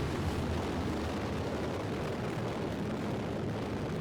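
Solid rocket boosters roar at launch in Kerbal Space Program, a steady, dense, loud broadband rumble that holds unbroken throughout, with no voices.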